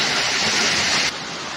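Steady, loud rushing of Bhusuk waterfall in Nepal, a dense hiss of falling water that drops slightly in level near the end.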